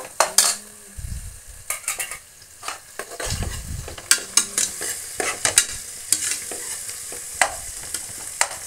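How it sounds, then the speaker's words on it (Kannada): Tomato, coriander leaves, mint and onion frying in a pan for palav, with a steady sizzle broken by repeated scraping stirs and clinks of a spoon against the pan. "ಟೊಮೆಟೊ, ಕೊತ್ತಂಬರಿ ಸೊಪ್ಪು, ಪುದೀನ, ಈರುಳ್ಳಿ ಎಲ್ಲ ಚೆನ್ನಾಗಿ ಫ್ರೈ ಆಗ್ತಾಯಿದೆ ನೋಡಿ"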